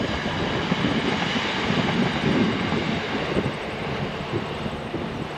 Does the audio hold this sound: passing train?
yes